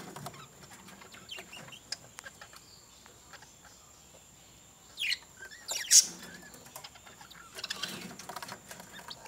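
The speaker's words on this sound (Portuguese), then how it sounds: "E vamos ficar um pouquinho com meus periquitos." Pet parakeets chirping indoors: scattered soft chirps and twitters spread through the clip, with a few brighter, louder calls in the middle, no talking.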